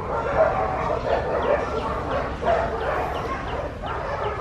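Border Collie giving a steady run of yips and barks, repeated short calls across the whole stretch, fairly close and lively with some whimpering in between.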